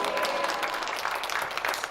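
Church congregation applauding together, a dense, steady wash of many hands clapping in a large room, fairly distant and even for its short length.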